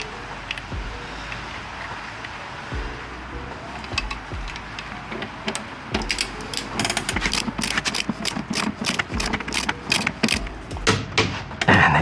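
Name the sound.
torque wrench tightening a Bosch eBike crank arm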